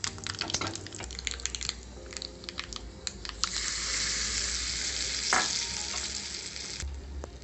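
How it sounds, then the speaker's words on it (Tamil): Curry leaves and dried red chillies go into hot oil for gongura chutney: first scattered pops and ladle clicks, then a sudden, sustained sizzling hiss swelling close by, fading toward a final clink. "ஒரு கொத்து கருவேப்பிலையும் 2 குண்டு மிளகாயும் போட்டு தாளித்து போட்டுறேன்"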